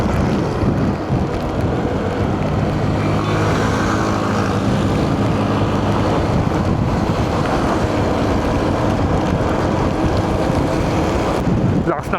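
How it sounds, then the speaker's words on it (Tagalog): Strong wind buffets the microphone on a ride along the Gapan-Olongapo road during monsoon weather, a loud continuous roar with rumbling noise throughout. "Lakas ng hangin."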